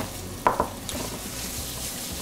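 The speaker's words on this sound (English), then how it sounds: "Give them a good stir." Rinsed tinned chickpeas stirred in a frying pan, a steady close sizzle with a couple of sharp spoon-scrape clicks near the start and continuous soft frying hiss throughout.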